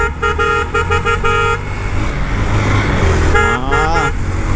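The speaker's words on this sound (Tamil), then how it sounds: "இந்த ஹாரனு இது வந்து ஸ்கோடா ஹாரன் மாதிரி இருக்குது" The horn of a Karizma R motorcycle, which sounds like a Skoda car horn, gives a few loud, close honks, a cluster of short blasts and then another burst, over road and traffic noise.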